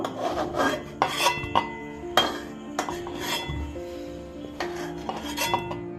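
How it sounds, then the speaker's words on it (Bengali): Boiled potatoes cooked with salt and turmeric are drained in a kitchen vessel, giving clattering metal clinks and scraping rubs of utensils against the pot in irregular bursts, close and moderately loud with no talking. "এবার আলুটাকে আমি ভালো করে একটা পাত্রের মধ্যে ছেঁকে নেব"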